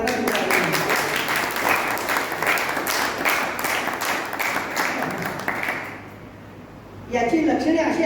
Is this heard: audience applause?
yes